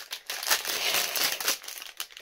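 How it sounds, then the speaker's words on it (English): Plastic packaging from a creepy cute subscription box crinkles loudly and close up, a dense run of crackling bursts with brief pauses between handlings. "this plastic is the loudest plastic ever"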